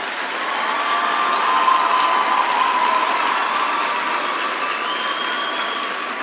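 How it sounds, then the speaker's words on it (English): Graduates at a university graduation ceremony applaud the supporters in the audience: a large hall fills with steady, sustained clapping that holds evenly for several seconds, dense and unbroken, with no voices over it. "give a round of applause to everyone who's here that has supported you to get here"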